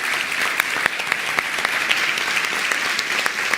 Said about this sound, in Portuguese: Uma salva de palmas para a Letícia.